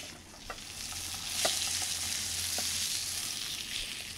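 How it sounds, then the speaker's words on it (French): A meat fillet sears in a pan over a very high flame, with loud continuous crackling sizzle swelling midway and punctuated by a few sharp spatters and stirring clicks, close up. "j'ai mis le feu très fort pour bien le snacker, pour bien le saisir"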